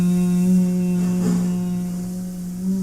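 Human voice humming a steady, sustained low tone on an outward breath to imitate a meditation bell or singing bowl, one long even drone that gently fades toward the end, close and alone.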